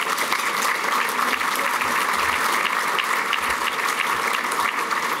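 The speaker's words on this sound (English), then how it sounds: "Can we please give them a round of applause?" Steady applause from an event audience for the staff of a Maggiano's restaurant, dense and even clapping that continues without a break for the full length.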